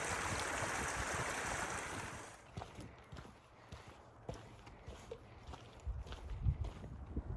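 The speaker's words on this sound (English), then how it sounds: "the water's flowing all the way from up there." Water rushes steadily along a mountain stream on a hiking trail near Conifer, Colorado, loud and close for the first two seconds, then softer beneath crunching footsteps and small knocks.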